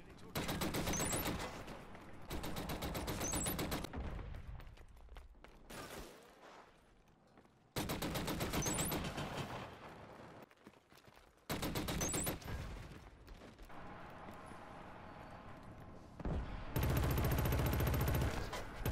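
Pistol gunfire from a headshot in a shooter game, loud bursts of rapid shots in several separated blocks with brief quieter gaps between them, no clear talking.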